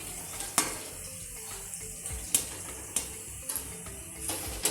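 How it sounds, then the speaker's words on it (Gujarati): Chopped dates roasting in ghee in a pan, a soft steady sizzle broken by sharp spoon knocks and scrapes against the pan every second or so, close and moderately loud. "હવે આપણે આ ખજૂર છે એને આપણે ઘીમાં શેકીશું"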